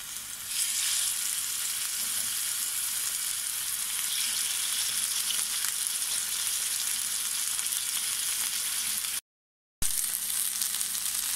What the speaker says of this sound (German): wenn euer Öl heiß genug ist, könnt ihr das Hühnchenfilet oder Hühnerbrust von beiden Seiten kurz anbraten, bis es kross ist